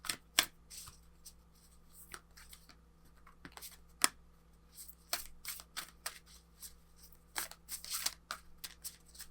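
Oracle cards being shuffled close up, a soft papery riffle with sharp snaps and flutters coming in irregular bursts over a quiet room hum, no talking.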